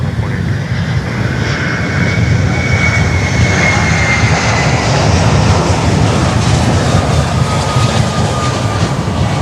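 A jet airliner roars steadily at Miami airport, a loud continuous engine rumble and whine that holds for several seconds without fading.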